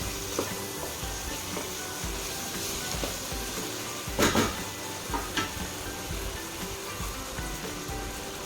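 Sliced mushrooms go into a pan of frying chicken for a stir-fry, giving a steady close sizzle and crackle, with a few brief louder spits and stirring scrapes partway through.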